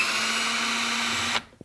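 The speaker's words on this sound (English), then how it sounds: "I'm going to use my cordless drill" A cordless drill runs at a steady high whine for over a second, close and loud, then cuts off, followed by a small click, while removing an old light switch during home electrical work.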